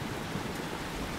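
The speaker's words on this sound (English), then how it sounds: "See, it's raining." Steady rain in a train cartoon, a dense, even hiss of falling water filling the whole moment without breaks or voices.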